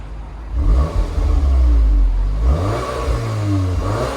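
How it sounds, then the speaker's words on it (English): Volkswagen T-Roc R, a 300 hp compact SUV in dynamic mode, revving at a standstill: a close, loud engine swelling through a few rising and falling revs, with a deep rumble underneath and no talking. "we'll leave it in dynamic and we'll see how it sounds with a few revs"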